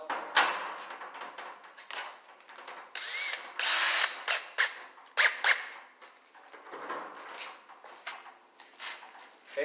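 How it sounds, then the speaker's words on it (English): A power drill whines and squeals in repeated bursts as it drills out spot welds on a 1968 Mustang rear frame, with sharp squeaks and short pauses between passes. "I'm going to continue drilling out these spot welds"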